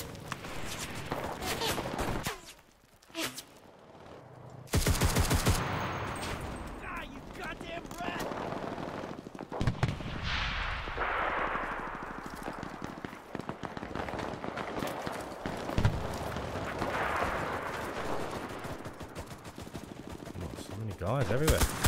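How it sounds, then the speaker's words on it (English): Gunfire rattles through a battle in the World War II shooter Enlisted, with bursts of rifle and machine-gun shots, a sharp loud blast, and footsteps amid continuous combat noise, while someone talks over it throughout. "Stop shooting at me."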